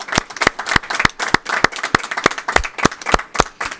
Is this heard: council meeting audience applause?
yes